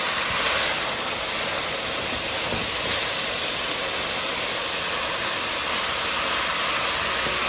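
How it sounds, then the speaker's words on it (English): Shrimp spring rolls fry in hot oil with a loud, dense, continuous sizzle and hiss, steady and close throughout, with no talk. "I wrap this inside the roll and fry it for an additional 2 to 3 minutes"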